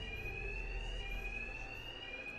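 Steady electronic fire alarm blares continuously inside the Batman: Arkham Knight video game, a bright sustained tone with faint periodic warbles over a low hum, with no talk.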